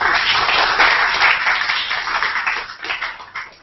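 Audience applause at a GBG meetup in Kuala Lumpur, a steady crowd of hands clapping that gradually thins and fades toward the end.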